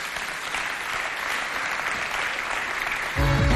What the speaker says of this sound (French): Sous vos applaudissements, Yousra et Bouchra Ndiaye.